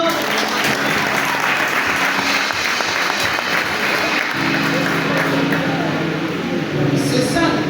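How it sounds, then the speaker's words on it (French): A church congregation at a Sunday service at an Evangelical Church of Cameroon parish applauds in a sustained, dense wash of clapping. Voices and a held musical tone sit beneath it. "applaudissez encore"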